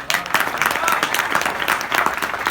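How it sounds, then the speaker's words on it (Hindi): Audience applause at a motivational laughter event, a moderately loud, steady patter of clapping with scattered sharper claps, the crowd sounding thin rather than thunderous over a short stretch. "तालियां कमजोर है"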